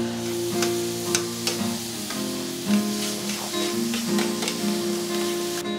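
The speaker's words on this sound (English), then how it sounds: "going to saute a little bit of nice sweet onion for our mushroom duxelles" Sweet onion sautéing in butter in a pan for mushroom duxelles gives a steady, close sizzle with a few soft stirring scrapes and no voices throughout.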